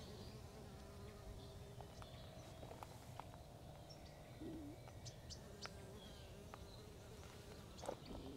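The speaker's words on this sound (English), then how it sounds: "That is our carpenter bees that have moved in." Carpenter bees buzz steadily at close range in a container vegetable garden, a continuous droning hum with a few faint higher sounds drifting in the background.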